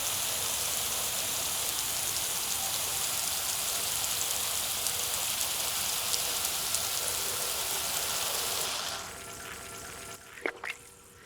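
Steady, dense hiss of lawn sprinklers spraying water, built from several layered takes, running evenly before dropping away near the end to leave faint background sound and a brief knock.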